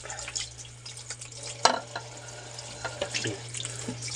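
Tap water runs into a small kitchen sink, a soft steady splashing with scattered drips and clatters, fairly quiet and close, under a low electrical hum.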